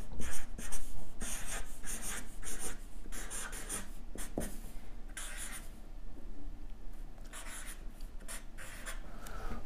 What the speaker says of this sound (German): Da schreiben wir jetzt mal Inverter.